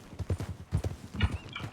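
Horse hooves clip-clop in a quick, close rhythm in the video game Red Dead Redemption 2, and a short whinny rises near the end.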